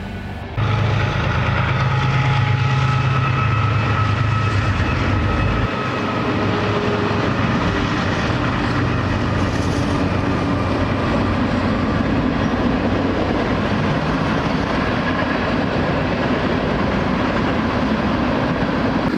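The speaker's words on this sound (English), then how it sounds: "You can definitely hear the freight trains when they pass by, even when you're in the wigwam." A freight train passes directly behind the Wigwam Motel on Route 66 in Holbrook, Arizona, a loud, steady rumble with rolling wheel clatter sustained for about twenty seconds, no voices.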